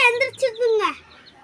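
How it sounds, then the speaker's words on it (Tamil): A chubby chicken gives a few short, close clucking calls in quick succession, fairly loud. "அவன் குண்டு கோழி தான்"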